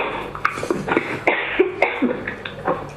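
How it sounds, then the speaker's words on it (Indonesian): A few rough, breathy coughs at close range, short bursts spread across the moment with some throat noise between them. "maaf saya batuk dulu"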